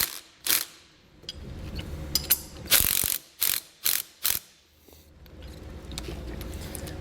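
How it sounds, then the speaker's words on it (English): A ratchet clicks in short bursts, backing a nut off a tow bar adapter bracket, close and crisp in an otherwise quiet space, with pauses between turns. "I'm just going to back the nut off just a tad"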